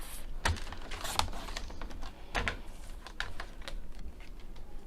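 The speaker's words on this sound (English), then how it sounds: "So I'm going to cut that to 5 inches, and then I'm going to cut it to 10 in the length." Scoreable wood-pattern craft paper being cut to size with a paper trimmer or blade, a series of close, quiet clicks and short scraping strokes scattered irregularly over a soft room background.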